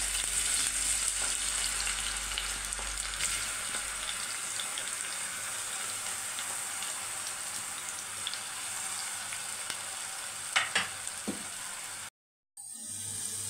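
Potatoes deep frying in hot oil, a loud, continuous close sizzle with a few clinks of a utensil near the end and a brief dropout just before it finishes.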